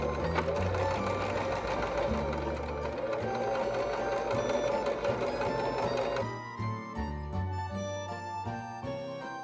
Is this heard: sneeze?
no